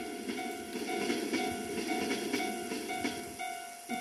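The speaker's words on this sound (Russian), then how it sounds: "Просто ЭП-20-очка с двухэтажным поездом" A passing EP20 electric locomotive hauling a double-deck passenger train rumbles steadily past a level crossing with rhythmic rail clatter and a faint high electric whine, fairly close and continuous throughout.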